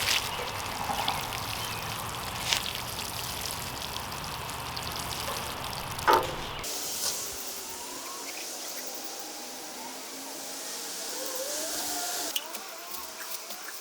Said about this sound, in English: And now finally, I'll water everything in.